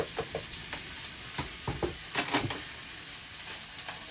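Lentils, kidney beans and onions stirred with butter in a pan, producing a gentle sizzle under a series of spoon scrapes and clicks at an uneven pace, close and moderately quiet.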